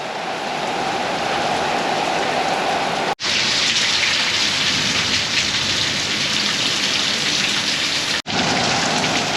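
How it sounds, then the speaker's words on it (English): Heavy thunderstorm rain pours down in a dense, steady roar of drops hitting surfaces at a construction site with a drainage trench, broken by two brief dropouts, with no voices. "So we're getting some good rain, guys."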